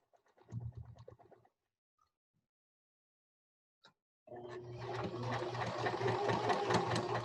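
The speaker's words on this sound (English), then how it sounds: "Put your sewing machine needle down into your project before you start sewing" A home sewing machine stitches a square pillow sham, a brief whir at first, then quiet with a faint click, followed by a steady, close mechanical hum of continuous stitching.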